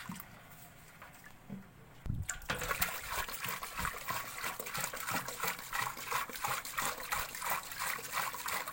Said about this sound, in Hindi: अब इसके अंदर और पानी डाल लेंगे और फिर हमारा पानी तैयार हो जाएगा।